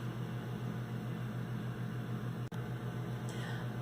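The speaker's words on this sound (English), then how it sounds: "Reheat for 10 seconds in the microwave." A microwave oven hums steadily while reheating cheese danish batter, a constant low drone with a brief click partway through and no voices.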